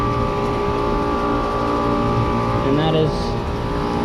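A 2009 3-ton Carrier heat pump with a Copeland scroll compressor and GE motor runs outdoors as a steady loud hum and fan drone, a little shaky, with brief talk over it.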